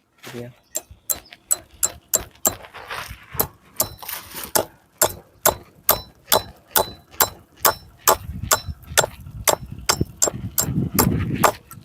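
Repeated sharp hammer blows striking stakes in a steady rhythm, about two per second, loud and close, with low background noise building toward the end.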